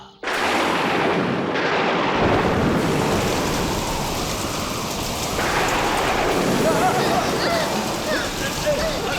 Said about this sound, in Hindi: भयंकर तूफान आया।